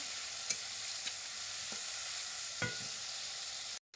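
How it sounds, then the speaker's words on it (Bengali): Tomatoes soften in a pan of hot mustard oil under a steady, dense sizzle, with a few scattered clinks and scrapes from stirring before the hiss cuts off abruptly. "টমেটো একটু নরম নরম করে ভেজে নিতে হবে"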